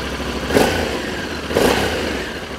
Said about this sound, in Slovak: Dovolím si rovno aj naštartovať nový motor.